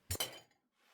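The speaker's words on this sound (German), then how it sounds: "legen wir die Deckel locker auf die Gläser auf" Loose lids set onto glass jars of homemade sour cream, two quick clinks of glass close together, followed by a short ringing decay and then near silence.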